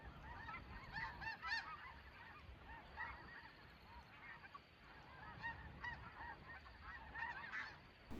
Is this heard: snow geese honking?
yes